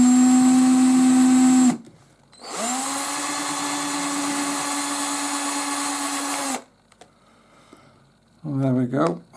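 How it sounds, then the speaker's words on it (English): A power drill bores through an LG Magic remote control in two bursts: a short high whine, a pause, then a longer steady drilling run that stops abruptly, followed by a brief buzzy noise at the end. "hold that on there and get it as central as I can and drill it through."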